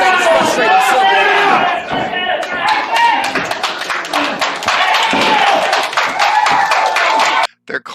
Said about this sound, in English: They're clapping for an arm drag followed by an arm bar.